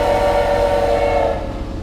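Loud, sustained train horn in a video game with a monster attack, one steady blaring tone lasting nearly two seconds and easing slightly toward the end, with no talking over it.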